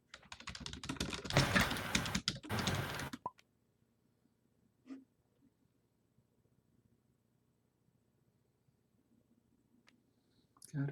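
Ability cards for the Disney Villainous board game being shuffled at a table, a dense burst of riffling and clicking card noise for a few seconds that then gives way to near silence with a couple of faint taps.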